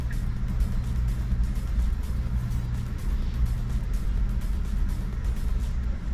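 A car moves through downtown traffic in Ottawa's Byward Market, heard as a continuous low rumble of road and vehicle noise that holds steady and fairly loud from start to finish, with no talking.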